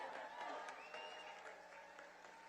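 Crowd applause at a Michigan election night event: a continuous wash of many people clapping, with some cheering mixed in, held at an even level for the full stretch.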